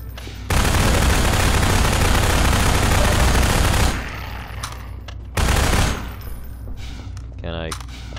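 Rapid automatic gunfire in Half-Life 2, a loud sustained burst of about three seconds, then a shorter burst, with a player's voice in the quieter gaps.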